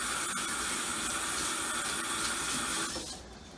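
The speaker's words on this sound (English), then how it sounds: "So let me rinse my hands real quick." Hands are rinsed under a running kitchen tap, with a loud, steady rush of water close by that cuts off near the end, leaving quieter background.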